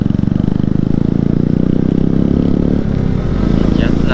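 Motorcycle fitted with an aftermarket exhaust, a non-Hunter bike on a monsoon ride toward Kundapura, idles and revs in a steady low rumble close by, with people talking over it.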